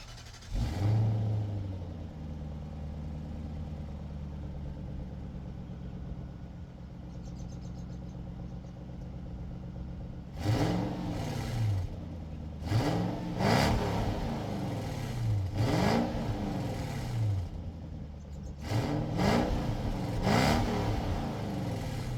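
A 1998 Lexus GS 400 V8 idling on a lift with a rough, uneven tone, then blipped repeatedly in the second half, about five quick revs rising and falling over the steady idle, no talk.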